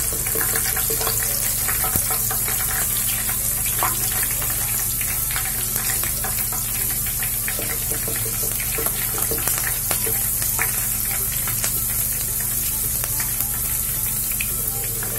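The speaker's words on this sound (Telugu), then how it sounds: "పచ్చిమిర్చి వేగిన తర్వాత ఇందులో కరివేపాకు ఇవి కూడా ఫ్రై అయ్యాయండి" Green chillies and curry leaves fry in hot oil, giving a steady, close sizzle with faint crackles and pops that runs without a break and without any talk.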